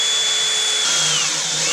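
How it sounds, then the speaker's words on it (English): A power drill bores into aluminum intercooler piping for a turbo Miata, a loud, steady high-pitched whine with grinding bit noise, running continuously up close with a slight pitch shift partway through and no talking. "And now we can go ahead and start drilling it"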